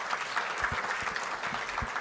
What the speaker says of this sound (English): please give a big round of applause to Professor M.S. Anand